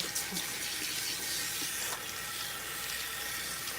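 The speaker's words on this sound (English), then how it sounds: "what I'm doing first is rinsing off the relaxer" Water runs steadily from a salon sink sprayer as a relaxer is rinsed out of hair, a close, continuous hiss of flowing and splashing water without voices.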